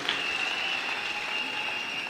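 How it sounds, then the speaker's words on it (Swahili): A church congregation in Ruiru claps for the church and its bishop: a steady, dense wash of applause that holds at an even level throughout, with no voices standing out. "Kwa hivyo makofi kwa kanisa na kiongozi."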